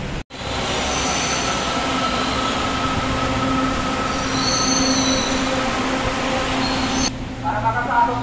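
An LRT-2 light rail train rumbles steadily through Marikina-Pasig Station with faint metallic squeals, ending in a brief electronic chime as the noise eases.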